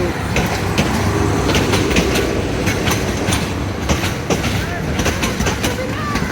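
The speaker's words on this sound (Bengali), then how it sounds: "আন্তনগর কি ট্রেন এটা চট্টলা এক্সপ্রেস" Chattala Express intercity train running at speed, heard from on board as a loud, steady rumble with rhythmic clickety-clack of wheels over rail joints throughout.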